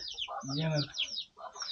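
Chickens cluck and chirp close by in a quick, busy burst, with higher peeping calls mixed in.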